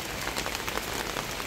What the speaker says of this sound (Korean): 비가 점점 더 거세지고 있어요.